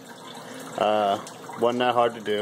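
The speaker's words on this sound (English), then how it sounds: "Kind of got a little waterfall going on." A small waterfall runs in a home fish tank, a steady gentle trickling wash heard close by beneath a person speaking.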